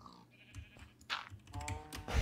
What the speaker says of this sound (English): It sounds like the saddest cow ever.